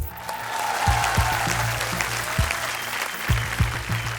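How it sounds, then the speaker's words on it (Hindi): Studio audience applause on a Hindi television game show set, a steady dense patter of many hands clapping close to the microphones with a few sharper claps over a low background hum. "तालियां।"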